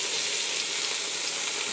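Food sizzles steadily while frying in a pan, with a constant bright hiss and faint crackle throughout, close up and without any talk.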